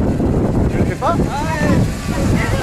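Steady wind gusting and buffeting against the microphone as a low rumble, with voices faintly talking underneath.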